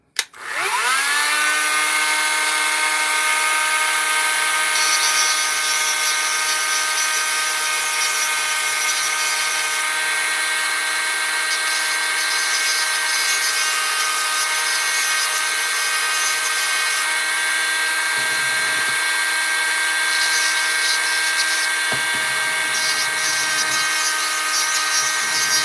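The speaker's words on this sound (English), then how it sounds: "Let's grab that Dremel. All right. And then we'll just use this bit, because why not? It's going to be loud" A Dremel rotary tool grinds through metal with a loud, sustained high-pitched whine after a quick spin-up, running close and steady for over twenty seconds with only brief dips in load.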